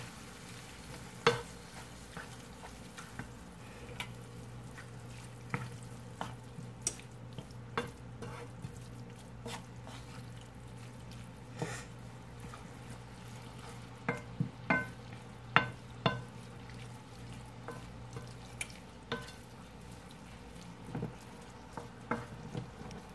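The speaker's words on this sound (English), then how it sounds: "we're gonna go ahead on and put these roasted tomatoes in here. Stir it up, stir it up." Roasted tomatoes stirred into a cooking pan for stuffed bell peppers, a low steady sizzle with scattered scrapes and clinks of the spoon throughout.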